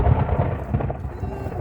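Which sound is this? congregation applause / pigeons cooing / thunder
thunder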